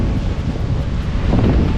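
Strong wind of around 20 knots roars across the microphone aboard a sailboat running at about 9 knots with two reefs in the mainsail and a reefed jib, steady broadband buffeting with waves washing beneath throughout.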